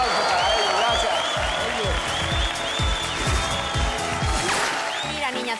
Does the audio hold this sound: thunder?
no